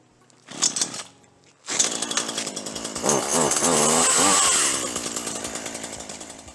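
A chainsaw at a cabin sputters briefly, cuts out, then fires up and runs loud and close with rising and falling revs as it bogs and clears, holding a steady snarl before easing slightly.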